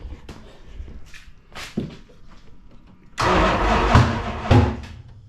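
A Plymouth Road Runner's 440 V8 engine turns over after some quiet shuffling, then fires and runs loud and close, the idle rough and surging.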